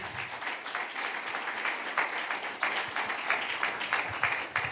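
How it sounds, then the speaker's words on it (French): An audience applauds a short-story prize winner at a colloquium, giving a moderate, steady patter of clapping that runs throughout at a fair distance. "Et on peut l'applaudir, en effet."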